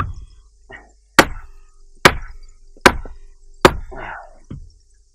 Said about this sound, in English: whacking out all the pegs